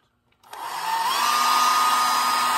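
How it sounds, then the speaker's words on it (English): A handheld hair dryer switches on after a brief silence and settles into a loud, steady whooshing whine as it blows on wet paint, close by with no talking. "I'm going to get my hair dryer."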